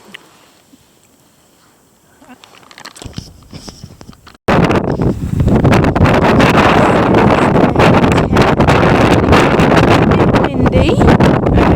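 Strong wind on the Larapinta Trail in the Australian outback: quiet at first, then gusts build and a loud, roaring buffeting of wind against the microphone takes over and stays constant for several seconds.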